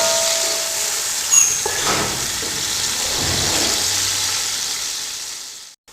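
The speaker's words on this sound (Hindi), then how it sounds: "प्याज को अच्छी तरह फ्राई कर लेंगे।" Onions frying in hot oil in a pan, a steady loud broadband sizzle that hisses continuously, with a brief clatter near the start and a sudden drop off right at the end.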